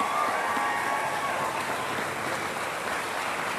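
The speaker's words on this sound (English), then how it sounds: "Let us give her another round of applause" Dense, steady applause from a commencement audience, a continuous wash of many hands clapping at moderate distance with no pauses.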